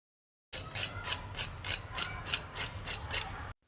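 Rhythmic, crisp crunching of crispy fried rolls, about a dozen sharp crackling bites or presses in steady succession, close and fairly quiet.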